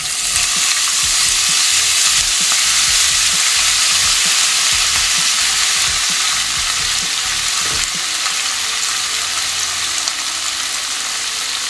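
Half a kilo of machine-minced mutton keema fries loudly in oil on a high flame, a dense continuous sizzle broken by repeated scraping and clattering strokes of a spatula stirring the pan, close up, with no talking.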